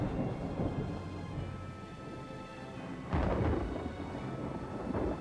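Rain pours at night in a Medieval 2 battle scene, with a heavy rolling thunder rumble that swells near the middle over a continuous wash of falling rain, loud and close.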